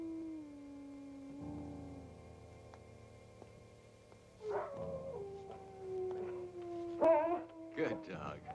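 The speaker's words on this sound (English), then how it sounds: "Good dog." A dog howls and whimpers in long, wavering tones, with sharper yips and barks toward the end, mid-distance and fairly faint.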